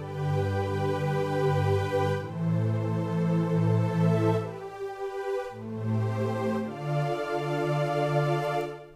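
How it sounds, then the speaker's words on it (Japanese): A soft, sustained synth pad plays slow held chords that change a few times, smooth and warm with no percussion. "今のような音でしたらパッド系の音ですので"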